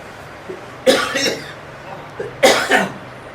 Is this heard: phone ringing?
no